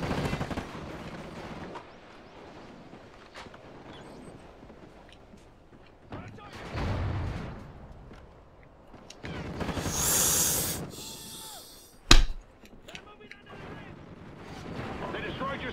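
Bursts of gunfire and a sentry gun on the Containment map in Call of Duty: Ghosts crackle at moderate distance amid game voice announcements, with one sharp loud shot standing out near the end.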